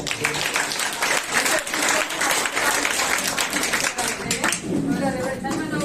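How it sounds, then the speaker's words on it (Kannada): A church congregation at a Sunday Kannada worship service claps loudly and steadily for several seconds, a dense, close wash of applause with a voice speaking over it. "ಎಲ್ಲರೂ ದೇವರಿಗೆ ಜೋರಾಗಿ ಚಪ್ಪಾಳೆ."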